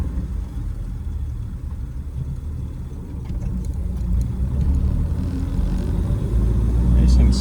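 A 1937 Plymouth Deluxe sedan rolls along under steady mid-range engine and road rumble that swells slightly as it shifts into second gear, heard from inside the cabin throughout.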